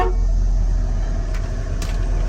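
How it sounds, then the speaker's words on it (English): Steady low whooshing of air from the blower motor of a 1965 Chevelle Malibu Super Sport runs throughout at moderate level, with a couple of faint clicks and no speech. "can hear the air working, but the blower motor, it does not have AC."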